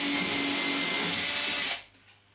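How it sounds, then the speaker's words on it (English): A power drill bores a hole in plasterboard, a close, steady high whine lasting under two seconds before stopping abruptly, leaving near silence. "I'm going to start off by drilling the correct sized hole in the plasterboard."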